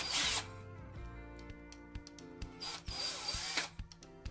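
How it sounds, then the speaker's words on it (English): A power drill unscrewing Phillips wood screws from the latch of a Schlage F-Series handleset on a door: two close whirring bursts separated by short clicks and handling noises. "The latch is removed by unscrewing these two Phillips wood screws here."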